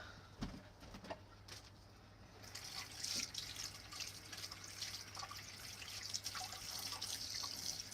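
Food being rinsed under a running kitchen tap during salad prep, a steady close water hiss that swells after a quieter start, with faint bird cooing in the background.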